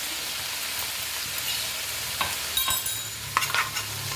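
Crushed garlic sizzles in hot oil for veg chilli, a steady frying hiss with stirring scrapes and clinks toward the end, close and moderately loud, no talking.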